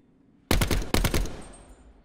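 Two quick bursts of video-game gunfire ring out as warning shots, each a rapid cluster of loud, close cracks separated by a brief pause, then a fading echo.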